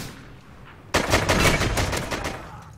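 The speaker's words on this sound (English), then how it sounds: "This guy just hit marked me twice with a sniper." Sniper rifle shots in a shooter game hit the player, starting as an abrupt loud blast followed by a rapid run of sharp reports that fades slightly toward the end.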